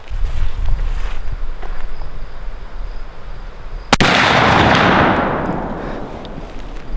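A single close, loud shotgun blast fires a 45-70 round through an MCA Sports insert at an outdoor range, followed by a long rolling echo that fades over several seconds amid wind noise.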